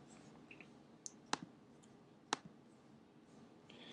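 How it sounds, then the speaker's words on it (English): A computer mouse clicks the Login button, giving two crisp, close clicks about a second apart against a quiet background. "And I'll click Login."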